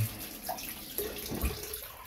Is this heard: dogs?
no